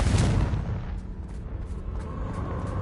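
Confringo blasting spell in Hogwarts Legacy: a loud, deep explosion at the start with a rumbling boom that decays into a lingering low roar over the next couple of seconds.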